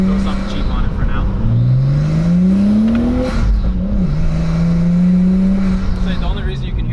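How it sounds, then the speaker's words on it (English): A Nissan Skyline R33 GTST with a large open air filter revs nearby, the engine note climbing and falling while a loud turbo whoosh of intake air rides over the steady engine roar. "So the only reason you can hear the turbo a lot is because I put the biggest air filter you can put on it."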